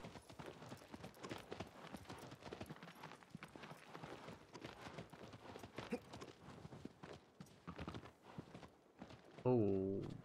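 Horse hooves clop rhythmically in the video game Shadow of the Colossus (2018 remake), steady and moderately near, under someone talking throughout.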